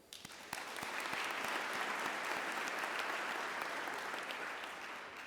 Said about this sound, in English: I'd love to give a round of applause to my fellow panelists